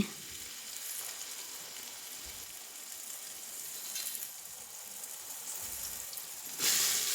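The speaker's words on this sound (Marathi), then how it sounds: "जिरं मस्त तडतडलं आणि त्याच्यामध्ये बटाटा टाकते" Diced potatoes sizzle and crackle in hot oil with crackling cumin seeds for pav bhaji, a steady frying hiss with a brief louder burst near the end; no talking.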